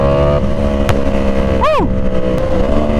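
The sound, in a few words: Yamaha R1 motorcycle exhaust pops from auto blipper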